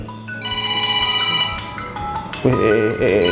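Ringtone for an incoming WhatsApp call sounding on a Haylou Solar Pro LS18 smartwatch, a bright repeating melodic chime that plays steadily throughout, close and fairly loud, with a denser burst of tones near the end.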